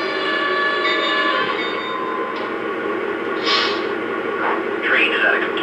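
A Lionel Legacy H16-44 model train locomotive brakes and slows, giving out a steady, loud mechanical rumble with hissing and squealing brake effects layered over it, continuous and close throughout.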